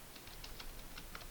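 Keys pressed on a computer keyboard while a terminal runs: a handful of soft, quick clicks in an irregular rhythm, faint beneath a steady hiss.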